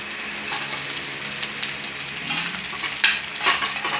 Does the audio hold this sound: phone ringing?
no